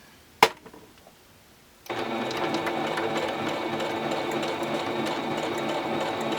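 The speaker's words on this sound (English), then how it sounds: "I'm just going to run a stitch up the sides just to close that up" A sewing machine stitching up the sides of a handbag pocket starts after a single sharp knock and a quiet pause, then runs in a steady, fast, close mechanical whir until the end.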